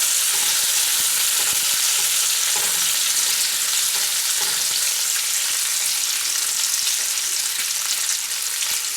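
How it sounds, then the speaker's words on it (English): Bacon frying in a pan, a dense, loud, continuous sizzle with crackling pops and spattering grease that holds steady throughout, with no voices. "You're certainly going to get splattering with bacon."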